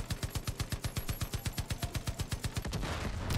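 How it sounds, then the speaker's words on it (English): Rapid bursts of automatic gunfire and explosions in the video game Far Cry 5 rattle in a steady rhythm for a few seconds, loud and close, then break into a rougher blast at the end. "Explosions!"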